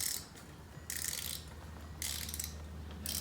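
A ratchet with a 17mm socket works the oil drain bolt on a 1993 Kawasaki Vulcan 1500 motorcycle, giving bursts of rapid close clicking in three or four strokes separated by short pauses over a low hum.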